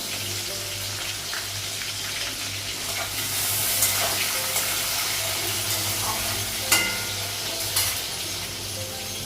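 Tomatoes, panch phoron, whole cumin and green chillies frying in a pan with cardamom and cinnamon, a loud continuous sizzle with scraping stirring strokes and a few sharp clinks, close up, no voices.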